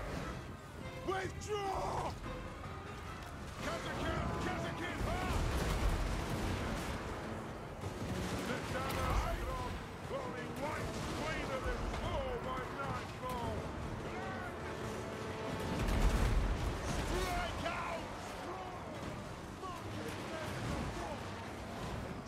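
Gunner units in a Warhammer fantasy battle keep up volleys of gunfire and artillery blasts at the orc warlord Grimgor, booming amid clanking and a roaring battle din, with someone talking over it.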